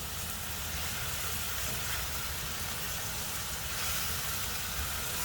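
Chicken with mushrooms in oyster sauce bubbles in a pan, a steady close hissing sizzle with a soft low rumble, continuous and even throughout with no talking.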